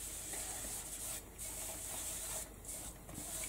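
Half a baby wipe rubs gesso into a canvas, a soft steady scrubbing hiss with small strokes and brief pauses, close and fairly quiet, no talking.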